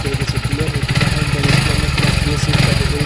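Engine of a Hero Splendor Plus BS6 motorcycle idling after a tappet adjustment, close and loud, with an even, rapid putter and light clatter across the whole few seconds.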